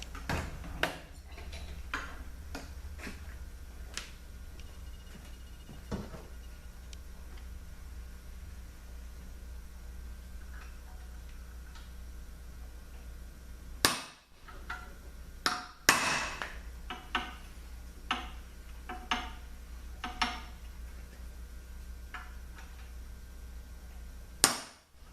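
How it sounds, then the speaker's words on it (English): A hammer peens over the metal edges of a 62TE automatic transmission part, delivering scattered sharp metallic taps at irregular intervals, with a few louder strikes standing out against a quiet background. "We got to peen it over to make sure that does not come loose."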